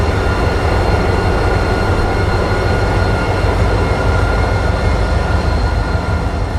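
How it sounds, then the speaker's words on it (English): An EMD SD40-2 diesel locomotive and train rumble loudly and steadily nearby, with a dense, continuous low roar and no pauses or voices. "It immediately identifies the locomotive as an EMD."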